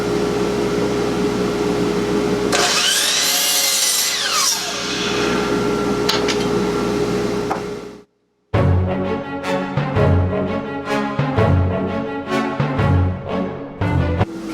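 A power saw cuts barn wood bench legs to size, its loud whining run lasting about eight seconds before cutting off, followed by a different stretch of busy, rhythmic sound.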